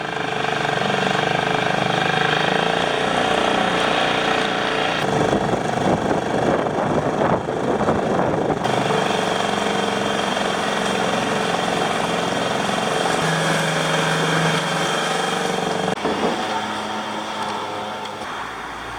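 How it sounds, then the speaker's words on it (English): A motorboat engine drones steadily and loudly throughout in the Netherlands, with a rough rumbling texture and slight shifts in pitch, fading a little at the end. "No canoe this time, a motorized boat."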